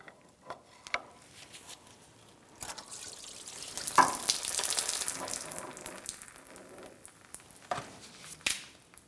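Residual coolant drains from the loosened engine water pump of a 2002-2006 Honda CR-V 2.4L four-cylinder into a drip pan, a steady close trickle with a few louder splashes and clanks.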